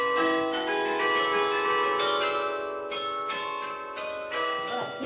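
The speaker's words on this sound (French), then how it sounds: "on entend le carillon automatique, hein, c'est la demi-heure" Automatic carillon bells in a northern French town chiming the half hour, overlapping ringing tones with long sustained decays, fairly close and clear.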